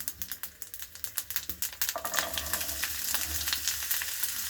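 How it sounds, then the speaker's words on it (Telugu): Pieces of spiny gourd drop into spiced tempering oil in a pan: a burst of rapid sharp crackles and pops at first, settling into a steady, close, continuous sizzle. "ఇప్పుడు కాకరకాయ ముక్కలు వేసేసుకోవాలి"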